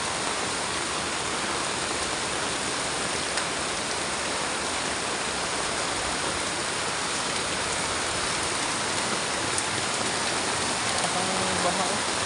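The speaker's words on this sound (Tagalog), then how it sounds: "Ang baha oh." Flood water rushes steadily through the rain, a dense, continuous roar and hiss of flowing water and falling drops that fills the whole stretch with no break.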